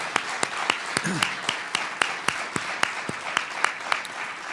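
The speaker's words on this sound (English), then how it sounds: "let's give the mayor a big round of applause" A Washington, D.C. town hall audience applauds the mayor, with steady, sharp claps repeating over a busy room background and a brief voice rising in the middle.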